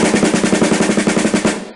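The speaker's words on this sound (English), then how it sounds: "back to an open bounce," A snare drum open bounce within a long roll rudiment: quick, distinctly pulsing double strokes in an even rhythm, close and bright, stopping after under two seconds.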